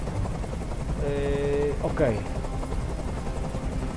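A helicopter in the video game Detroit: Become Human makes a steady, loud rotor rumble and drone throughout, with a voice speaking briefly over it.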